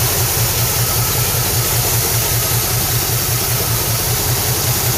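A 1978 Chevrolet Suburban's engine idles steadily, a loud, close, low rumble with an even pulsing throb that holds for the whole stretch with no voices.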